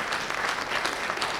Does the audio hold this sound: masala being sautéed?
no